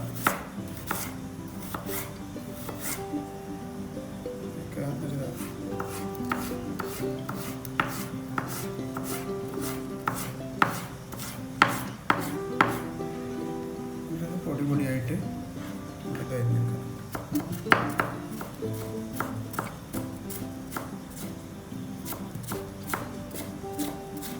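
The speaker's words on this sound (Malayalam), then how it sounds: "അതേമാതിരി ഇഞ്ചിയും ചെറുതായിട്ട് നമുക്ക് അരിഞ്ഞെടുക്കണം" Quick, steady knife chops on a cutting board, finely mincing ginger in many rapid strokes with a fine rhythm, close up.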